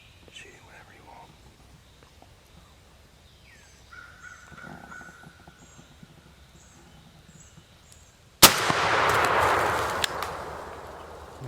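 A single sudden shotgun blast during a turkey hunt in Alabama hardwoods. It is loud and close and follows quiet whispering and faint woodland birdsong, then leaves a rushing echo.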